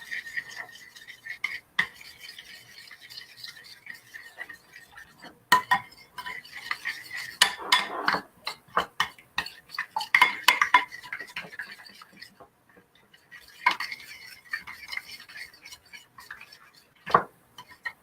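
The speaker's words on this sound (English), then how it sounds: "now mix this up, beating up our egg" A whisk or fork clinks against a bowl as an egg mixture with vanilla extract and thick coconut cream is beaten, giving quiet, irregular taps and scrapes in bursts with short pauses.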